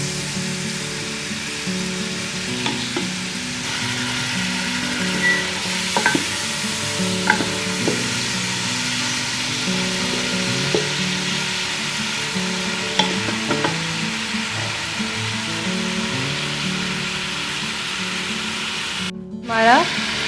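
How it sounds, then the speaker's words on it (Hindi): Tomato paste frying and being stirred in a pan for a potato and capsicum curry, a continuous loud sizzle with recurring spatula scrapes and taps, then a brief break near the end. "टमाटर पेस्ट डाल देंगे। और इसको भी भून लेंगे।"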